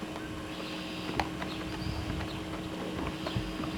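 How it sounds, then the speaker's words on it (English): Horse hooves clip-clop lightly and irregularly at close range outdoors on an Ohio farm, with flies and faint ambient noise around and no talking. "There, that horse comes right back."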